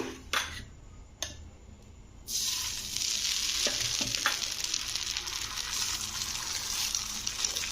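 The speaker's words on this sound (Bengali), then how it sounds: "আবার একটু তেল দিয়ে দিয়েছি ডিমটা ভাজার জন্য" An egg fried in oil in a pan, starting with a few clinks and scrapes, then bursting into a loud, steady hiss of sizzling oil with small taps, close and uninterrupted by speech.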